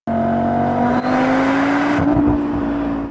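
A car engine runs steadily and loudly, a sustained rumbling drone with a rising pitch that roughens toward the end, with no voices present.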